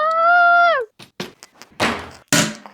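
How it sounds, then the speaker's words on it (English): A toilet seat in a home bathroom is lowered shut, a drawn-out squeak followed by a series of close, hard plastic clacks and thuds. "Closing the toilet seat."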